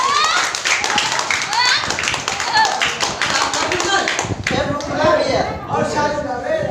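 An audience at a business plan seminar claps loudly in a burst of quick, sharp hand claps that thins into scattered clapping, with voices and chatter underneath.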